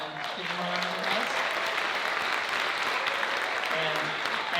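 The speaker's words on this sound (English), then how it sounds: "You want to give them a round of applause?" A school concert audience applauds student musicians at an end-of-year band concert and awards night, steady mid-level clapping from many hands with faint voices mixed in beneath.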